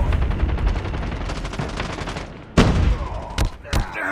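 Rapid bursts of automatic gunfire from Call of Duty Mobile, continuous and dense through the first half, then a sharp loud burst followed by two more short volleys near the end.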